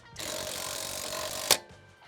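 An impact wrench tightening lug nuts on a Honda Element rattles in one sustained burst of about a second and a half, ending with a sharp clunk, close by.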